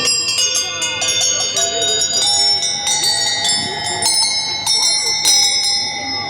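Small cast bronze bells ring in a bright, overlapping jingle of repeated strikes, close and loud, with voices talking underneath at an outdoor wine festival.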